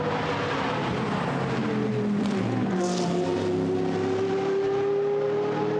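GT race cars, including a Corvette, roar through a fast corner at the Brands Hatch circuit in a qualifying race, a loud sustained engine drone with a rising pitch sweep as cars pass close by.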